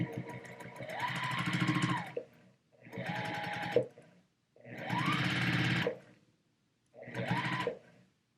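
A sewing machine stitches a quilt seam on a Boo Crew mystery quilt block, running in four distinct bursts of steady mechanical whirring with short pauses between them, close and clear with no talking.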